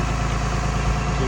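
A fifth-generation Ram 2500 pickup idles after several days of rain, giving a steady low, throbbing engine rumble with an even pulse, close and constant for a brief moment.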